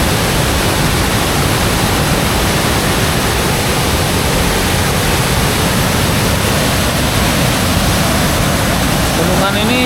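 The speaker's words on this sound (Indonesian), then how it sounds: "Dan airnya cukup lumayan deras guys." Fast-flowing water rushes steadily at the Embung Cikalong dam in Kampung Panenjoan, a dense, continuous roar that fills the whole stretch with no pauses and no voices.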